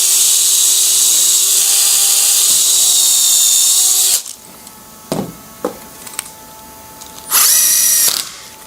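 Power drill boring a hole in a flat-pack furniture panel, a loud high whine held for about four seconds, then a few small knocks and a second short burst of drilling, close up.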